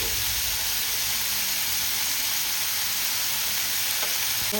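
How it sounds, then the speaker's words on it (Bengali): Small shrimp sizzle steadily in hot oil in a pan, a dense, continuous frying hiss that stays close and even throughout, with no voices. "বেশ ভালো করে ভেজে নেব।"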